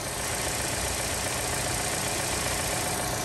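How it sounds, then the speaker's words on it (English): A 2014 Chevy Cruze LT with a small four-cylinder Ecotec engine and a K&N Typhoon intake idles nearby, giving off a steady, even mechanical hum and whir that never changes. "Under the hood, small four cylinder Ecotec."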